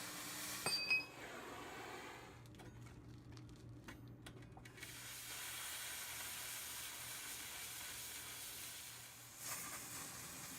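Torch roar and hiss while a metal horn base is heated and shaped, a steady broad rushing flame with a few sharp metallic clinks early on and a brief drop in the flame noise midway.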